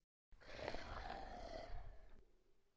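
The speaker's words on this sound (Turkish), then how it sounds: "Bear." A bear roars in one sustained, loud, raspy growl lasting about two seconds, then cuts off abruptly and leaves a quiet tail, with no talking over it.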